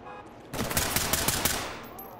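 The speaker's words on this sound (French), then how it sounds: "ça me tire dessus à droite, là" Gunfire in the tactical shooter game Ready or Not: a burst of several sharp shots with a few separate louder cracks over about a second, fairly close and loud, then fading into a lingering tail.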